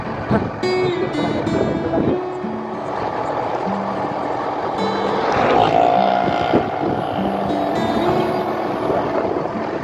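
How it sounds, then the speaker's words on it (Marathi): A car without headlights driving along a road, a steady engine and road rumble with wind buffeting the microphone and some brief tonal beeps over it. "आता आम्ही चालतो आहे गाडी बिना लाईटची गाडी आहे"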